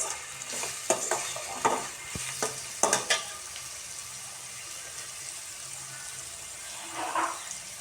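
Onions sautéing with salt in a pan for a fish ball curry, giving a quiet, low sizzle broken by a few sharp utensil clinks and scrapes early on, with no talking.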